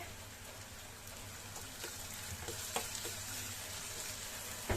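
Softened onion and a medium tomato fry in a pan for a chickpea and spinach dish, giving a faint, steady sizzle with a few soft clicks of a spoon against the pan.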